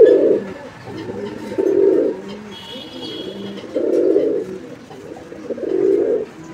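Racing pigeons, a pair, give repeated low throaty coos in close bursts of about a second, four main calls separated by softer murmurs and faint background noise.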